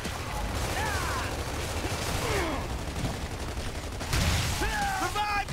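Lancer rifle crossfire in a Gears of War match, continuous overlapping automatic gunfire with mechanical clatter and whooshes, loud and dense throughout, with a commentator talking over it.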